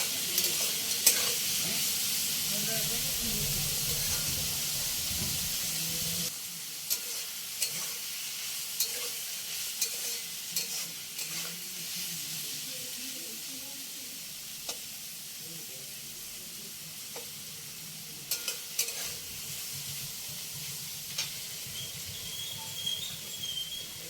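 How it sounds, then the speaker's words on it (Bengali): Vegetables, including potato, sizzle in a pan for spicy semolina while a spatula scrapes and stirs them, with intermittent clinks and a steady frying hiss throughout. "সবজিটা ভাজা হয়ে গেছে কিনা দেখে নেব"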